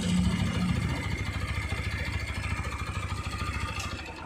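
A TVS Apache RTR 160 4V motorcycle engine idles at about 1800 rpm, a close, even, rapid thrum that holds steady throughout.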